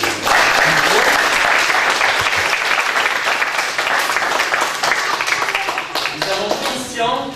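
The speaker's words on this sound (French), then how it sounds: "On peut l'applaudir." Audience at a Christmas judo club gathering applauds a club member, loud sustained clapping that thins slightly toward the end as voices begin to emerge.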